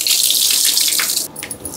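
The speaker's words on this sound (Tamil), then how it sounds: "தண்ணி மட்டும் இத்துறோம்." Water pours from a tap over chicken 65 pieces in a steady close gush that thins out briefly near the end.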